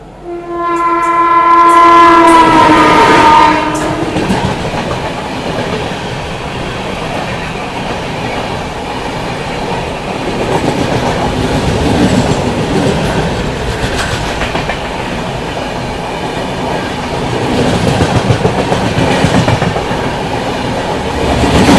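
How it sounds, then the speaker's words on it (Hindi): Trivandrum Rajdhani Express passing close at a crossing, opening with a loud, sustained two-tone horn blast, then a long, steady roar of wheels and clattering coaches rolling by. "सामने से आ रही है इंडिया की लॉन्गेस्ट रनिंग त्रिवेंद्रम राजधानी एक्सप्रेस"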